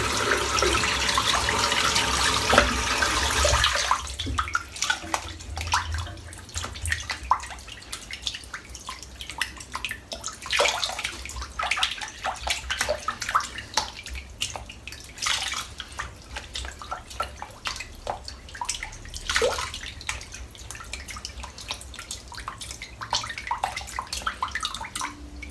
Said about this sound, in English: And I'm going to wash the brush.